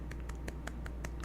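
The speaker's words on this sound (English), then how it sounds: "Little claps." Gentle little claps come in a quick, regular series of about seven soft taps over a low background hum, with no voices.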